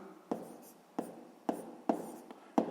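A pen writes sixth-grade math on paper by hand, giving soft, close scratching with five sharp taps at a regular pace, each stroke followed by a brief scratch.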